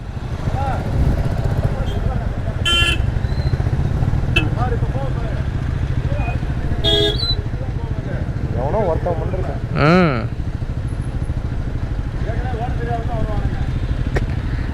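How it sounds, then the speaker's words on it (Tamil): Motorcycles and other vehicles pass in road traffic on a hill route to Yercaud, a steady engine drone close by with occasional horn beeps and passing engine surges. "சரியான டிராஃபிக்"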